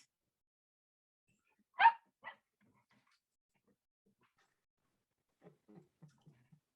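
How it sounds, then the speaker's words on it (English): A dog barks loudly twice outdoors, a sharp bark followed by a shorter one, then after a pause comes a run of softer, quicker yips and whimpers. "My dog was caught on her exit outside."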